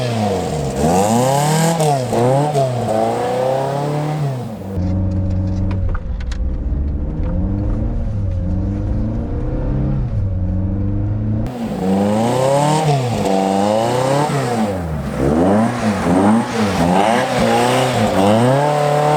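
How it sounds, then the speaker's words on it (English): A Toyota MR2 mk1 AW11 drives with its engine loud and close, revving up and down repeatedly through the gears, settling into a lower steady drone in the middle before climbing through more rising revs. "So now let's start her up and see the most important thing, and that's what the MR2 is like to drive."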